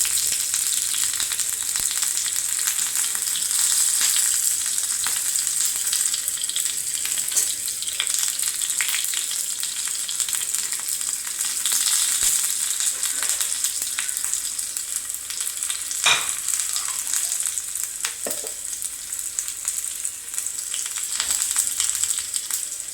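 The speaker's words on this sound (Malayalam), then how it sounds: "നമുക്ക് ഉള്ളി ഇട്ട് കൊടുക്കാം. ഉള്ളി അത് മൂത്ത് വരുമ്പോഴത്തേക്കും" Onions sizzle and fry steadily in a hot pan, a continuous close hiss with occasional stirring scrapes and crackles throughout, no voices.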